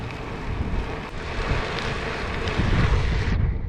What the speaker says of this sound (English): this is where the wind is really going to start to help